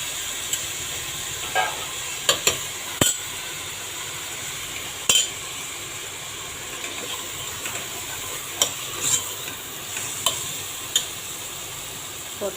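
Mint and coriander leaves being sautéed for prawn biryani, a soft continuous sizzle in the pan broken by occasional light clinks and scrapes of the stirring spoon.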